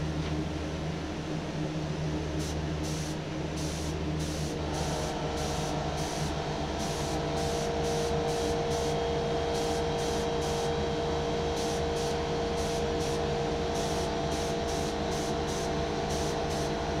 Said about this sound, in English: you want to turn down the fluid adjustment on your gun quite a bit to make it a much finer spray